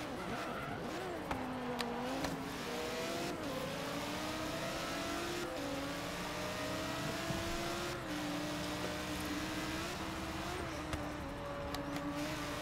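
A Lamborghini with power upgrades races in Forza Horizon 3, its engine climbing and dropping through gear changes steadily throughout, with brief tire squeals and skids under the continuous loud roar.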